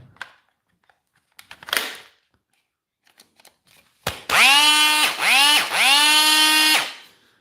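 A faulty Makita power tool is switched on after a few quiet handling clicks, giving a loud, rough, high motor whine that dips and restarts twice in quick pulses before cutting off.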